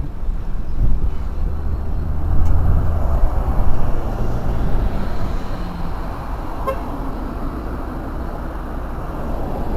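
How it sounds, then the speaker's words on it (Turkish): Busy Sunday road traffic with buses and cars, heard from a bicycle: a constant loud rumble of engines and road noise, with a few brief horn toots standing out. "Otobüs geliyor, dur bekle."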